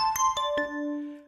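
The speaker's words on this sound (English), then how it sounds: "Short bell." Short synthesized bell tones from a ring modulator plugin: three quick metallic strikes in succession, the last one ringing out and slowly fading, heard alone and clear.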